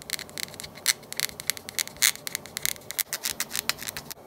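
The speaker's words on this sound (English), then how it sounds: "I just scraped this off with my fingernail" A fingernail scrapes residue off laser-cut plastic in quick, uneven bursts of close, dry scratching and rubbing, with a brief pause near the end, and no one speaking.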